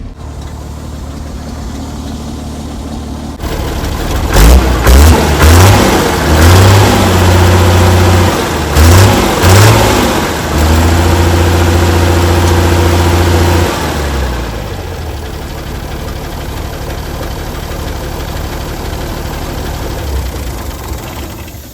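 The engine of a 60-year-old International 6x6 army dump truck starts up after sitting for years, revs unevenly in several bursts, then settles into a loud, steady idle close by.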